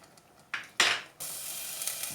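Minced pork being stirred and fried in a pan for a Thai yellow soy bean curry dip, with utensil scrapes and clatter, then a steady close sizzle that holds to the end.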